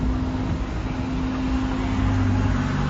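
A rally car's engine drones steadily from moderate distance, a low constant hum with no clear rise or fall through the moment.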